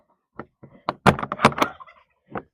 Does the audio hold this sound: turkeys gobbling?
yes